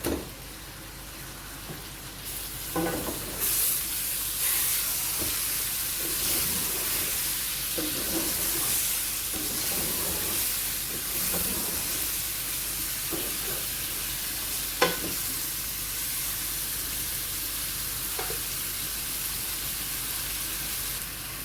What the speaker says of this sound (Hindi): अभी 4 से 5 मिनट मुझे हो गए हैं इसको भूनते हुए चिकन को